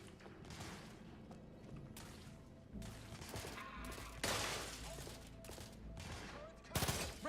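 Bursts of gunfire in the Outer Worlds 2 video game, a string of sharp shots and a heavier volley near the end, layered over game music and effects, fairly quiet overall.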